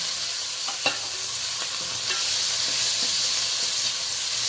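Onion, tomato and green chili fry in hot oil with tempering spices in a pan, giving a steady broad sizzle with a few sharp stirring clicks and scrapes over it.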